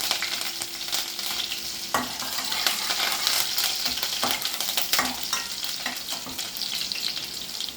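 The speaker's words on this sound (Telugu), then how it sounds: "ఫస్ట్ నూనె వేడెక్కింది, పచ్చిమిర్చి," Green chillies sizzle and crackle in hot oil in a pan for an egg curry, a steady close frying hiss with sharp pops and stirring clatter throughout, no talking.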